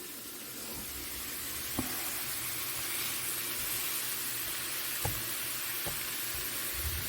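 Ground meat sizzling in a crowded skillet for a cheeseburger pie, a steady broadband hiss and crackle throughout with a few sharp pops standing out, fairly close and with no talk.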